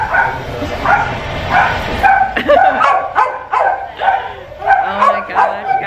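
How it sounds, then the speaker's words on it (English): Several puppies bark and yip in quick, overlapping bursts close by, with a few whimpers mixed in and people talking softly in the background. "We're looking at puppies today, guys."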